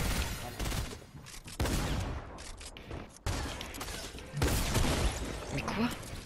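Submachine gun fire in the video game Fortnite Battle Royale, loud rapid bursts of shots with sharp cracks and breaking sounds, in several dense bursts separated by short gaps, with talking mixed in.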